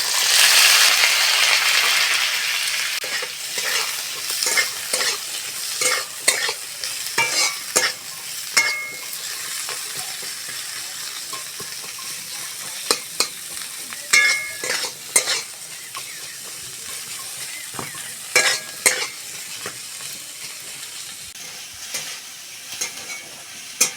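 Tomato, onion, green chili and garlic frying together in a wok, a steady loud sizzle broken by repeated stirring scrapes and clinks of a spatula against the pan, close and without talk.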